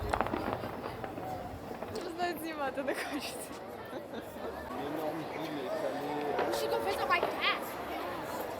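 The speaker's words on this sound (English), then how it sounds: "celebrated with fireworks by the harbor" Distant New Year's fireworks over a harbor in New Zealand crackle and pop in scattered bursts beneath steady crowd chatter and nearby voices.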